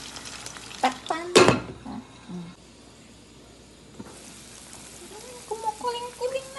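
Bihon noodles cook in a covered pan with a soft, low sizzling bubble, interrupted by a sharp clatter and stirring knocks, with a voice speaking faintly near the end.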